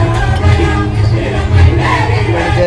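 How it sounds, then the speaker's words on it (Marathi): Dense festival crowd at the Aagari Mahotsav in Badlapur, a steady loud murmur of many voices and movement filling the whole stretch without a break. "पण गर्दी मात्र अफाट होती."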